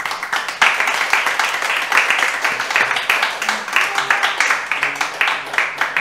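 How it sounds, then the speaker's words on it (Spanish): A church congregation claps during a sermon, rhythmic and fairly close handclaps falling into a steady beat, with a voice talking over parts of it. "Y le da un aplauso al Señor."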